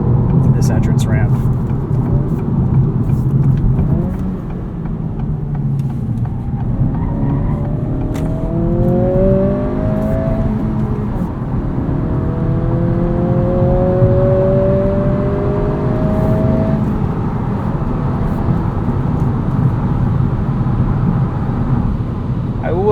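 A 2023 Acura Integra with a 1.5-liter turbo engine and manual gearbox accelerates up an entrance ramp, its engine note rising steadily through the gears in a continuous loud drone from the cabin, with a voice talking over it.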